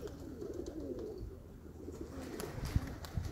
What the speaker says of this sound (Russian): ворона вклинилась в голубей